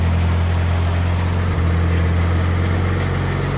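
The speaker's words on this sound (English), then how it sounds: "Let it run for a second before I rev it out." A Nissan S14's engine idles steadily up close, a low even rumble with a constant hum and no revving, running alone without talk.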